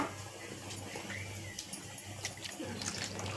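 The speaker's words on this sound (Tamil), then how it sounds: "இன்னும் கொஞ்சம் தண்ணி விட்டு" Water poured into a ground mixture of salt, dried chillies, cumin and coconut for a Tamil New Year lunch dish, a soft continuous trickle and splash heard faintly over a low background hum.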